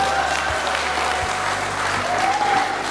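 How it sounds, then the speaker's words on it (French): An audience applauds at a talk on baby visits and care for pregnant women, a dense, steady clapping close by that fills the whole moment without a break. "Applaudissons quand même pour le papa."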